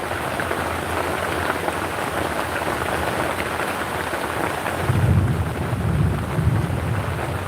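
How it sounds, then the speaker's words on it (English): Steady rain drums on an outdoor shelter in a dense, continuous patter, with a louder deep rumble swelling in the second half; no voices. "I think you get to hear the rain a little bit better"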